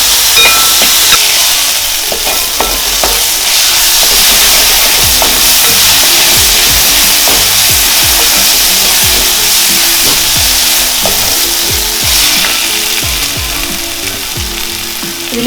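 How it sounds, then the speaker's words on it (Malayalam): Finely chopped onions with salt frying in a pan, a loud, continuous sizzle with rapid, irregular scraping and clacking from stirring running through the whole stretch. "ഓണിയൻ ചെറുതായിട്ട് അരിഞ്ഞത് നമുക്ക് ചേർത്ത് കൊടുക്കാം."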